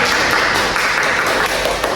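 A classroom of people claps hands together in a dense, continuous burst of applause, fairly loud and close, with faint voices mixed in.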